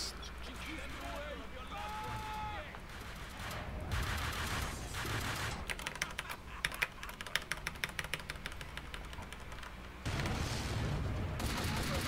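Rapid gunfire and booms from the video game Max Payne 2 during a speedrun boss fight, with clusters of quick shots and bursts over dense game sound and music, while a player talks.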